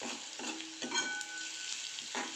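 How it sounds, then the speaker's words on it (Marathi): Onion bharad bhaji being stirred in a pan, a steady close sizzle and fry with a few scraping spoon strokes, no voices. "परत छान मिक्स करून घ्यायचं आहे आपल्याला"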